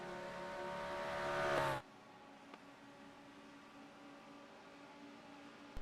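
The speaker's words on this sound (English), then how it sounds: "You can just hear the cars just in the background" Race cars at Le Mans in a racing video game roar loudly and close for under two seconds, then cut off abruptly, leaving a faint distant drone in near silence.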